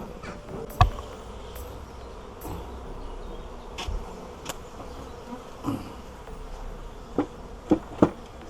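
Honeybees in an opened, crowded small hive give a steady, close buzzing hum, broken by a few sharp knocks and clicks from handling.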